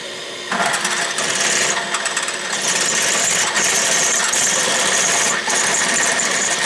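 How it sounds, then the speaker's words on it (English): A drill press starts up and runs continuously while drilling a decoy weight mold, a loud mechanical whir with metallic grinding that dips briefly near the end. "I decided to use the drill press."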